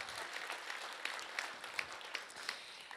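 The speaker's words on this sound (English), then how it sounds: "Give him a big round of applause." An audience at a budget engagement forum applauds, a steady bed of clapping with a few sharper individual claps standing out, moderately loud and continuous for about three seconds.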